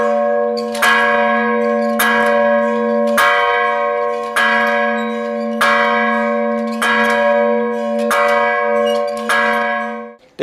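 A large bell tolls slowly and loudly, about eight evenly spaced deep strikes, each ringing out with a long resonant hum between them.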